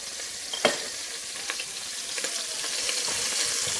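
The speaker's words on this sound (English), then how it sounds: "And I'm going to brown the outside of the ribs" Pork ribs browning in about five tablespoons of oil in a pan on a stove set to medium, a steady bright sizzle with a few sharper pops, close and alone.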